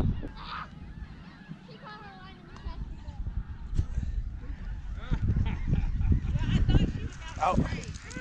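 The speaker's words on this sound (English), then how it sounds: "There's these birds just hanging out by me." Seabirds honk repeatedly close to a kayaker by the salt-water shore, sharp goose-like calls scattered among ambient noise and rustling, with someone talking between them.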